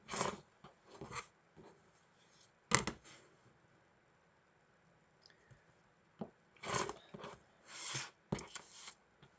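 Quilt blocks are trimmed at a sewing table, making intermittent scraping and cutting strokes in short clusters separated by near-silent pauses, close by and with no voices.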